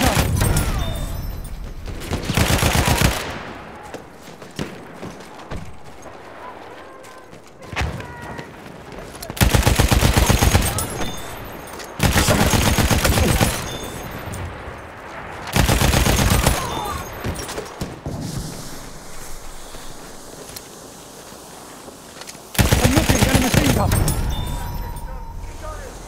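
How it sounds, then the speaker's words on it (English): Bursts of machine-gun fire from the video game Battlefield 1 break out repeatedly over roughly 26 seconds, loud broadband volleys separated by quieter gaps with game voice lines in between. "There's an enemy machine gun."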